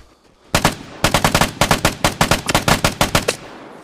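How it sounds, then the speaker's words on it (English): Automatic gunfire in the PvP shooter Vigor, loud close bursts of rapid, evenly spaced shots broken by brief pauses across a few seconds. "we've got somebody over here shooting at me already"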